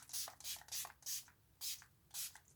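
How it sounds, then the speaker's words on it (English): Six quick hissing bursts of makeup setting spray onto a face at close range in a steady rhythm, with faint rubbing between them. "Now is the time to sit and spray with setting spray."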